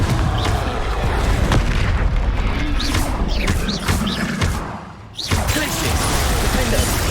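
Confringo fire-spell explosions in Hogwarts Legacy, a loud, close series of booming blasts and crackling impacts over dense game noise, with a brief dip before another burst.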